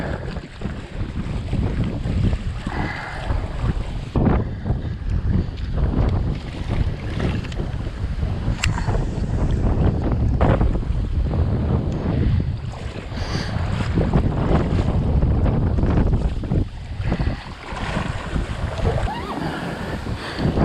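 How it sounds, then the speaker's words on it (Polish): Strong, steady wind roars across open water, buffeting the microphone continuously, with waves and gusts rising and falling throughout and no talk. "Pęczki prawie przygotowane, ale wieje."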